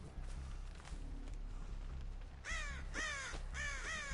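Several harsh crow caws ring out in a video game, Dead by Daylight-style survival match, with a run of repeated calls in the second half over a steady ambient hum.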